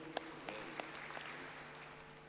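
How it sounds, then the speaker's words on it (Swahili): A church congregation at a Kikuyu service in Thika claps in a brief, faint, uneven patter of hand claps, a few sharper claps standing out at the start. "Pigieni makofi."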